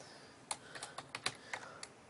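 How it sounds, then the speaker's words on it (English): Light, uneven keystrokes on a computer keyboard, a handful of soft clicks in quick succession, faint and close with no talking. "I'm just going to type in my info"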